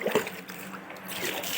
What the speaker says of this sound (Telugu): నీళ్ళు చుమ్మిరుస్తున్నాను.